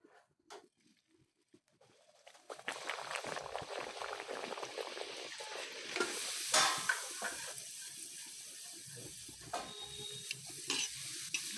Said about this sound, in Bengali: এই কচুরিটা ভাজার তেল আমার গরম হয়ে গেছে এবার আমি কচুরিটা দিচ্ছি